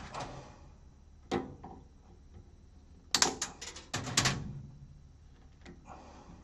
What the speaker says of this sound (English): cut a tie wrap